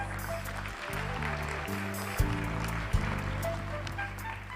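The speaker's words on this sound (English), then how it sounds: "Please welcome him with a big round of applause." A hall audience applauds to welcome a Ministry of Environment official from the Republic of Korea at the KGAW 2023 and 8th APAN Forum closing ceremony. The steady clapping runs under sustained low musical tones throughout.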